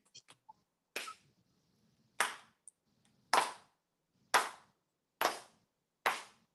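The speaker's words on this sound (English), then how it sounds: "That's a slow clap." A slow clap of six single hand claps, crisp and evenly spaced about a second apart, with a couple of faint taps before them and silence in between.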